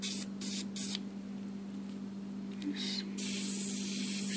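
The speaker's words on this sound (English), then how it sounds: "here to lubricate the rollers, you gotta spray like that." Short bursts of aerosol lubricant hiss close by onto garage door rollers, a few quick sprays followed by a longer one, over a steady low hum.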